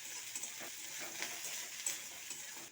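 Chopped garlic and chilli fry with onion in oil, giving a soft, continuous sizzle with small crackles and faint stirring taps, quiet and close.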